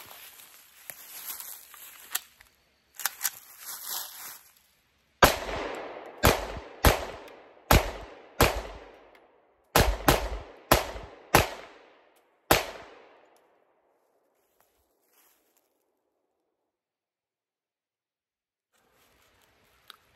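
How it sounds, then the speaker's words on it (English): A handgun fitted with a weapon light fires about eleven sharp, loud shots at uneven intervals, each followed by a short ringing tail. Quieter handling noises come first, and near-silence follows the last shot. "So let me load some more rounds up. We'll do some more shooting with this."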